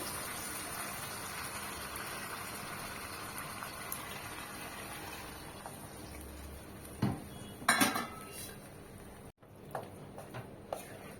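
Banana flower and water go into a pot of prawn curry, followed by faint scraping and clinking of a utensil against the pot, a few sharper knocks, and a soft simmering hiss, recorded quietly.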